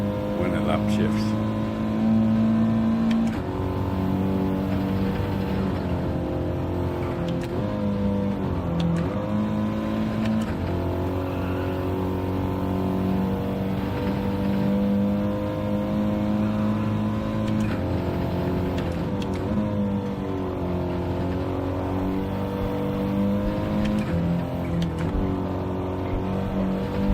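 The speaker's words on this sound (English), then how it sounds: "That bit. When it upshifts." A front-wheel-drive race car in a racing video game upshifts again and again, its engine pitch rising steadily then dropping at each shift across a long run. Speech runs over the engine at times.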